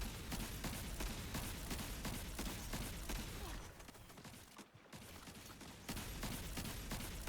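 Sustained rapid gunfire and bursting explosions in Destiny 2 from the Malfeasance hand cannon during a Grandmaster Nightfall boss fight, a loud continuous barrage that briefly dips and then resumes.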